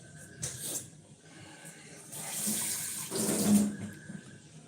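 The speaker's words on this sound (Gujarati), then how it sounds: "ફિલ્ટરમાંથી પાણી પહેલાં લઈ લઉં" Water runs from a home water filter into a vessel in a kitchen, a short trickle building into a steadier splashing stream for about two seconds before stopping, close and moderately loud.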